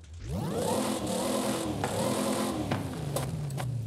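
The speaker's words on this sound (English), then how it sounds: "I'm also going to show you how the camshafts, the upgraded camshafts, actually make a difference to how the car sounds" A car engine with stock camshafts in the video game Forza Horizon 5 revs up sharply and holds a buzzing, rattly drone, with a few quick clicks and gear-like shifts as it runs.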